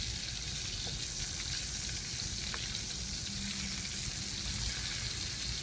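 Cauliflower, carrots and tomatoes for vegan khichdi frying in a small wok, giving a steady, close, loud sizzle with faint stirring scrapes and no talk.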